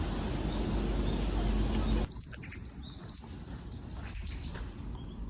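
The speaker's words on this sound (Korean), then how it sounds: "새 지저귀 듣고 난리 났다" Bright little bird chirps repeat over a soft outdoor hush after rain, several short calls scattered close by after a louder rustling start.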